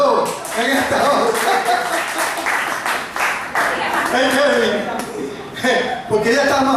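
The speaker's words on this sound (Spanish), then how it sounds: "¿Cuánto damos aplausos a Jesús en esta hora?" Church congregation applauding during a Spanish-language sermon, sustained loud clapping under a preacher's voice and crowd murmurs for the whole stretch.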